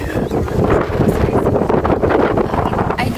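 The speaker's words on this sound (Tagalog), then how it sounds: "mahangin sa labas" Wind blows outdoors on a street walk past closed shops, a steady broadband rush buffeting the microphone throughout, with faint talk mixed in.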